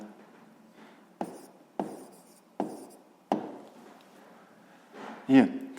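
A teacher writes by hand during a sixth-grade math lesson on parallelepiped volume, producing soft scratchy strokes in several separate bursts with brief pauses, ending in a louder rub or tap.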